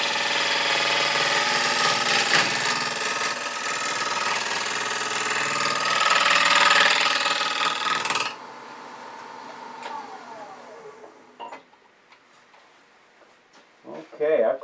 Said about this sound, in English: I'm going to come in with this beading and parting tool and come straight in, perpendicular